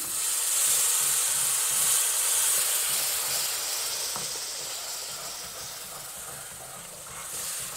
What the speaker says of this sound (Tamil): இந்த சுகர் கலந்த வாட்டரை வந்து ஆட் பண்ணுறோம் இதை வந்து 2 பார்ட்டாக ஆட் பண்ணிக்கோங்க நல்ல பபிள்ஸ் வரும்